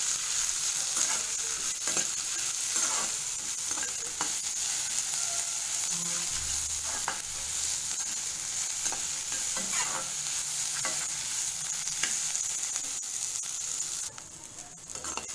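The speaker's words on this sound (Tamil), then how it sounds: "இப்போ வெங்காயம் நல்லா வதங்கியாச்சு." Chopped onions and curry leaves sauté in a kadai, sizzling steadily, with repeated scraping and stirring strokes of a spoon against the pan running throughout.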